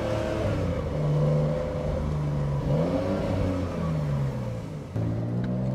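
The flat-six engine of a Porsche 911 Carrera S Cabriolet, 992 generation, runs close and loud with a deep rumble, rising and falling through a few revs before settling back.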